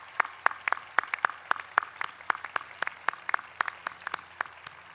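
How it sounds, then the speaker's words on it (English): Graduation audience at Santa Monica College applauding trustees, a moderate crowd clapping with distinct sharp nearby claps in an irregular but steady patter that continues throughout at a fairly even level. "So let's give them all a round of applause."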